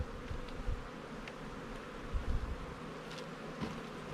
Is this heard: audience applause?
no